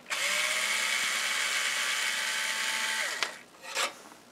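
Two screws being removed from a slot plate on an Amiga 2000 computer: a steady whirring motor drone runs for about three seconds, then winds down, followed by a brief rattle and a short rising whir.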